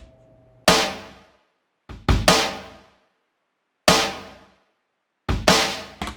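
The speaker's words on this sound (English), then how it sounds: "The loop snare sounds like this." A snare sample lifted from a loop hits in isolation, sharp cracks with short ringing tails, some in quick doubled pairs, spaced by silence.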